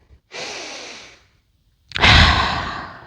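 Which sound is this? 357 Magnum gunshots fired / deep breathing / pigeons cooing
deep breathing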